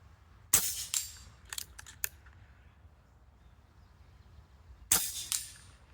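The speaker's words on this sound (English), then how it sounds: "Let's see if I can land a couple on there, how many shots it takes me to hit it." Two sharp PCP air rifle shots, roughly four seconds apart, each followed moments later by a fainter metallic ping as pellets strike a distant yellow steel target, over quiet outdoor background.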